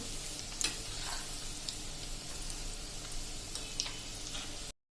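Leftover rice bhajiya fry in hot oil over a medium gas flame as they are turned. A steady close sizzle runs throughout, punctuated by a few light utensil clinks, before the sound cuts off abruptly.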